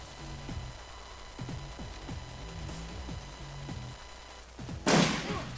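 Gunshots in the Shadowrun Returns video game: a couple of short shots, then a loud burst near the end, under repeated game music notes.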